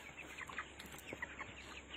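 Broiler chickens in a poultry house cluck softly and irregularly, a low flock murmur with scattered brief calls over steady background noise.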